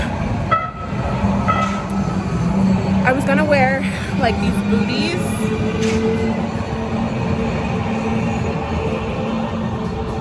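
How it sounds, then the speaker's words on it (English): A loud train rumbles past with a continuous roar and screeching rail squeals, while a person talks over it. "hold on, the train is loud."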